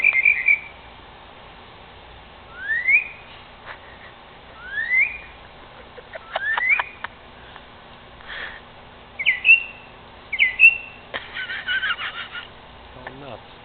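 A mockingbird sings from a tree in a series of separate phrases: rising whistles, chirps and short rattling bursts, spaced a second or two apart. The calls are moderately close against a quiet background.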